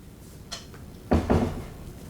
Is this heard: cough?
no